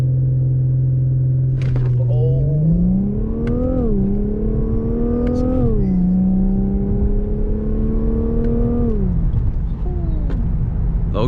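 Infiniti Q60 launching hard on a night drive, a loud close engine drone climbing steeply in pitch through several gear shifts, each marked by a brief dip before rising again, then easing off near the end.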